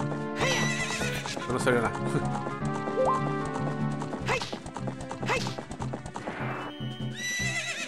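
Horse neighing and galloping hooves in Zelda: Ocarina of Time, game audio with music, someone talking over it throughout.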